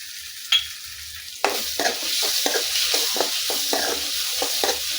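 Sautéed onions with turmeric powder are stirred in a pan for a potato chicken curry: a quiet start, then a sizzling hiss broken by repeated scraping strokes of the spoon.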